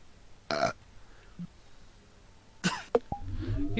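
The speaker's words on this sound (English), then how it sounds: "I can make myself burp." A man produces several forced burps, a short one early and a louder, longer croaking belch later, with a cough-like burst and faint breathing between, in a quiet room.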